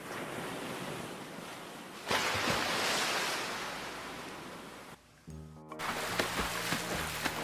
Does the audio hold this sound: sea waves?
yes